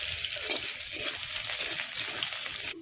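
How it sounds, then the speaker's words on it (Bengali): Chopped garlic hitting hot oil with four dried red chillies and kalonji, a steady close sizzle and crackle of frying spices that runs almost continuously before cutting off near the end. "তেল কিন্তু আমাদের গরম হয়ে গেছে চারটে শুকনো লঙ্কা ফোড়নে দিলাম কিছুটা কালো জিরে ফোড়নটাকে একটু ভেজে নেব চার পাঁচটা রসুনের কুচি এর মধ্যে দিয়ে দিচ্ছি"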